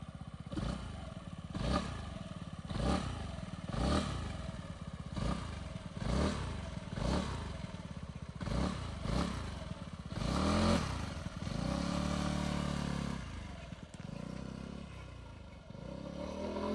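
A SYM DRG 160 motorcycle engine runs close by, rising and falling through repeated revs at a steady rhythm, then holds a smoother idle-like drone near the end.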